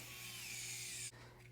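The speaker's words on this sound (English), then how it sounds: "Let's get these screws in." A power screwdriver drives a martensitic stainless steel number 4, quarter-inch Phillips round-head screw into an LED light bar, a steady close whine that stops abruptly near the end.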